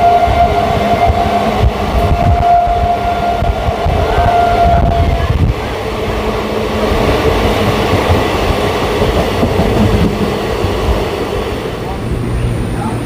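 A train runs loud and close through Palta station, a continuous heavy rumble of wheels on track with rattling carriages and a brief high squeal early on, steady throughout.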